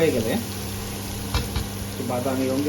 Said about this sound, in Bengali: বড় 1 স্পুন গার্লিক দিয়ে দিব। গার্লিকটা একটু বাদামি রঙের